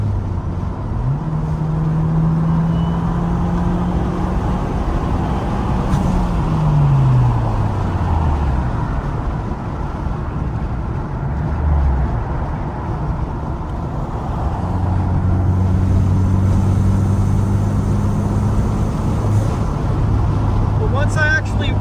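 A Ford Puma ST laps the Cadwell track, its engine droning loudly and continuously, the pitch climbing and falling through revs and gear changes for the whole stretch.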